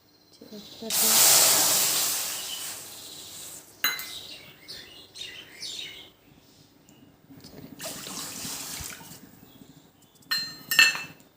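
Two bowls of water are poured into a hot kadai, setting off a loud hissing burst that fades after a few seconds, followed by softer intermittent hisses, splashes and clatter.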